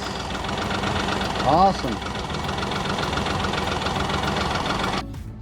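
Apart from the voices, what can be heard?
Honda BF30A 30hp outboard engine idling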